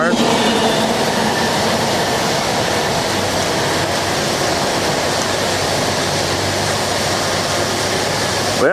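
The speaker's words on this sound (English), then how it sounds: "Quick train. CSX empty coal train. E040. Northbound on the Henderson subdivision." A northbound CSX empty coal train passes on the Henderson subdivision in Kentucky, a loud, steady wash of rolling wheels and rattling cars that fills the whole stretch without letup.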